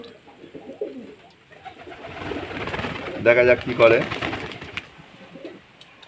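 Pigeons coo softly in a few low, rounded calls while being given water, with a person speaking nearby over them.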